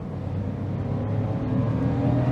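A 2007 Smart Fortwo W451 with an automatic gearbox accelerates, its small engine giving a steady, close droning hum that grows slightly louder over a couple of seconds.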